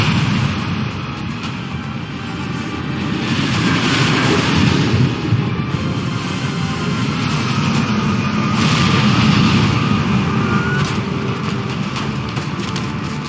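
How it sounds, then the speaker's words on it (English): Eclipse mercenary gunships from Mass Effect 2 flying in: a loud, sustained engine roar with deep rumbling booms, swelling and fading in waves over about thirteen seconds, with no talk over it. "Damn it! Eclipse mercenary gunships. They'll be dropping troops into cargo areas."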